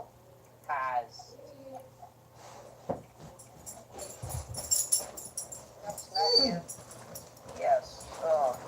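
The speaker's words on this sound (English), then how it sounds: "there's a dog next to me" A nearby dog whimpers and lets out high, short yips in scattered bursts, fairly faint, while people chat in the background.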